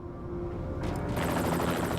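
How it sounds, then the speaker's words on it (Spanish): A helicopter flies overhead with a steady rotor drone that thickens into a louder, choppy whirring halfway through, close and continuous with no talking. "un helicóptero transportó al prisionero a un lugar seguro."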